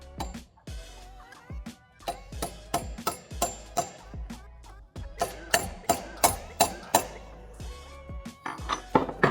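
Repeated sharp metallic hammer taps drive a miter gear pin into a JX gear box, coming in irregular bursts of close, ringing strikes with brief pauses between them.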